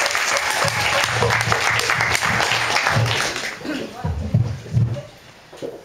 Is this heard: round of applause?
yes